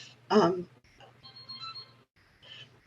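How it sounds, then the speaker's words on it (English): A phone rings indoors with a thin, steady electronic tone that holds for about a second, faint beneath and between bursts of a woman's speech. "there's a phone ringing"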